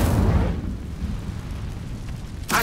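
A burst of fire from the Incendio spell in Hogwarts Legacy, a loud whooshing blast that decays over about a second, followed by a sharp second burst at the end.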